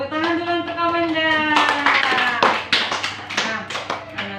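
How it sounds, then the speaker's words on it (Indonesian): A short burst of hand clapping from a group of primary school children in a classroom, several quick claps over a sustained sung or chanted voice, close by. "Tepuk tangan dulu untuk Amanda."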